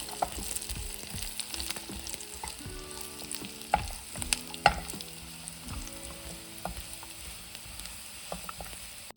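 Cashews being stirred into spicy Kerala beef fry in a pan, a steady close sizzle of frying broken by scraping stir strokes and a few sharper clacks of the spoon against the pan, with no talk.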